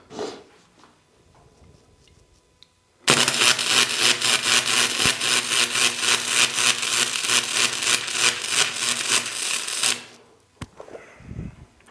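Riland MIG 145e gasless flux core welder running at 105 amps, a loud steady crackling sizzle that starts abruptly, continues for about seven seconds and then stops, with quiet handling noises before and after.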